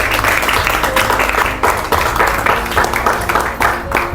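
Steady applause from a gathered crowd at a defence training academy ceremony, loud and sustained throughout with no voices on top.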